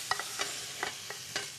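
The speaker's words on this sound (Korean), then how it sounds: "오, 아주 지글지글." Shrimp sizzle and crackle in a hot pan, with a few scraping stirs breaking through the steady frying hiss.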